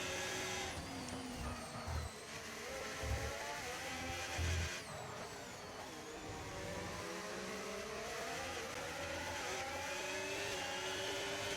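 F1 race car engines in a video game at the Singapore circuit, whining at high pitch and sweeping up and down through the gears, continuous and fairly faint, with several cars overlapping.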